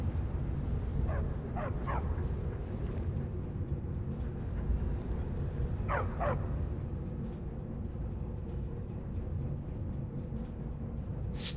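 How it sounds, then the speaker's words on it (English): Dog barking in the video game Skyrim, a few short yips and barks early in the stretch and again midway, fairly close over a steady low ambient rumble of game atmosphere. "Stupid dog."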